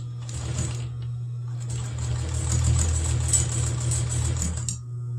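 A sewing machine runs steadily, stitching through a lace hem with a tulle netting edge, its motor hum and rapid needle rattle holding close and even for about five seconds with no talk.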